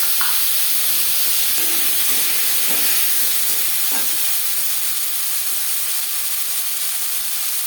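Chopped tomato sizzling in oil with a bay leaf and panch phoron for a Bengali rui fish curry, a steady, hissing, steam-like fry with a few faint clinks and no talking.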